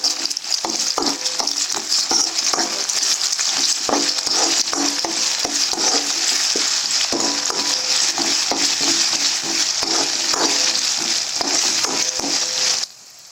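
Ginger garlic paste frying in a pan while being stirred, with a steady sizzle and repeated scraping strokes of a spoon throughout, close and continuous with no talk.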